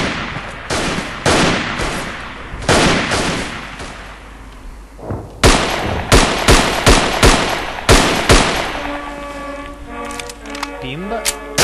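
Sharp bursts of rifle and machine-gun fire in the World War I shooter Verdun, loud rapid volleys with short pauses, ending in scattered shots and whistling tones.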